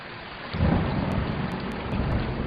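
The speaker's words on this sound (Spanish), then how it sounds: "Como veis, está lloviendo." Steady rain patters and hisses outdoors, with a low rumble swelling in partway through and continuing under the downpour.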